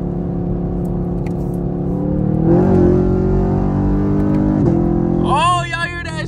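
Straight-piped Camaro SS V8 exhaust droning loud and close from inside the car, pitch climbing as it accelerates through a tunnel, with a sharp rev shift near the end.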